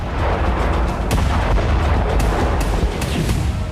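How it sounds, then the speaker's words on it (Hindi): Explosions at night in Sevastopol during a drone attack come as a dense, continuous roar of booms and cracking bursts, loud and close, with repeated sharp impacts layered over heavy low rumble. "रात के सन्नाटे में पूरा इलाका धमाकों से थर्रा उठा।"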